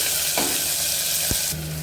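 Chopped onions sizzle steadily in a hot oiled pan as they soften for a Tamil-style macaroni dish, with a couple of brief stirring scrapes and knocks against the pan.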